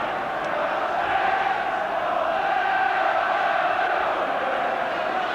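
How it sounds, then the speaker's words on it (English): St Helens rugby league supporters in a stadium sing and roar a sustained, dense chant of When the Saints Go Marching In, a steady wall of massed voices at the 1988 John Player Trophy final against Leeds. "The crowd, the St Helens section, roaring out when the Saints go marching in"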